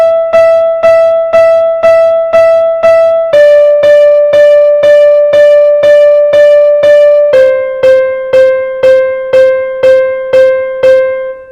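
Quaver notes on a sustained, pitched instrument, played as an evenly spaced stream of about two notes per second. The line steps down in pitch twice, and each note is clear and loud with no talking.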